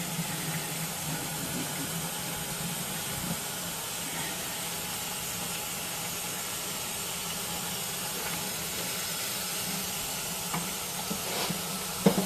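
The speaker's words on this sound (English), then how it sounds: "You can hear it sizzling. It's cooking underneath." Steady sizzling and crackling of vegetable paella frying in a pan, a constant hiss with occasional small pops, close by.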